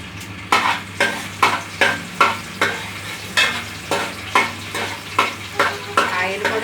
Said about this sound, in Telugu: పోపులు అన్నీ వేసేయాలి. ఆవాలు, జీలకర్ర, వెల్లుల్లిపాయ,